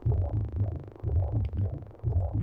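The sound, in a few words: heartbeat-like sample in Fear & Hunger 2 soundtrack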